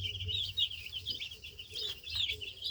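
Spring meat chickens cluck and chirp in a coop bedded with shavings, giving short, close, repeated calls over a soft, steady background.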